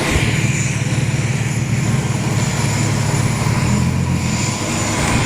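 Airplanes fly low overhead at a car meet, a loud continuous engine roar with a deep rumbling drone that swells slightly and stays steady, with no talk over it.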